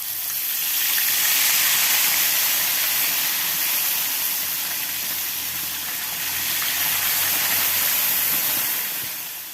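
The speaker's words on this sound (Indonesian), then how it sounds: "Kemudian langsung saja kita goreng ikannya." Tilapia fish sizzling in hot cooking oil for a Sundanese dish, a steady loud broadband hiss of frying that continues throughout without pause, swelling slightly midway, with no talking.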